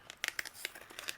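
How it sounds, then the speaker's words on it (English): Scissors snipping away overhanging paper edges on a handmade birthday card, a handful of quick crisp cuts and paper crinkles close by, fairly quiet with no talking. "just use my scissors and trim away"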